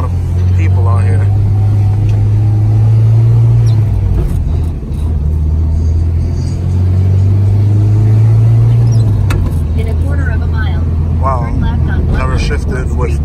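A Honda Civic Si with a stage 4 clutch revs loudly on the road, its engine droning and rising in pitch in two long pulls with a dip between, close and dominant, with faint voices underneath.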